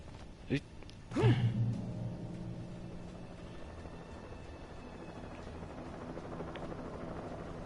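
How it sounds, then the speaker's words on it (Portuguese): A helicopter hovers in the video game Alan Wake Remastered, giving a low, steady rotor rumble that continues throughout after a couple of brief breathy gasps near the start. "Outro helicóptero tá de nós aqui."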